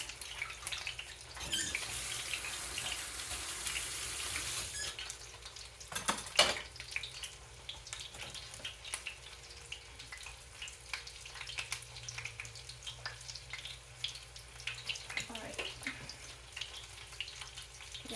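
Chicken wing drummies frying in hot grease give a soft, steady sizzle and crackle throughout, with a louder hissing stretch early on and a few brief clatters, fairly faint overall.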